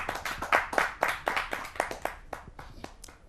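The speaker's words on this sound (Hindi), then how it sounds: "आप सबकी जोरदार तालियों से।" At a Hindi kavi sammelan, a small audience claps to welcome a poet, with close, distinct handclaps in an uneven rhythm that start strong and thin out toward the end.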